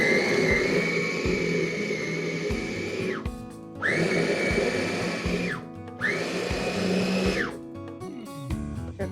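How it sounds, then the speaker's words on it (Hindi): Electric food chopper whirring through vegetables for a curd and sprouts salad in three loud, steady bursts, each stopping abruptly before the next run, with no talk. "चॉपर में भी डाल सकते"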